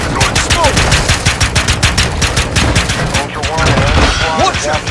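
Rapid automatic gunfire from Call of Duty DMZ rattles loud and close in continuous bursts, with brief voices in the background.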